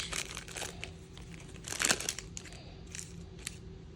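A Magic: The Gathering Kaldheim collector booster pack wrapper is torn open and crinkled, with quiet scattered crackles and one louder crumpling burst midway, close and alone.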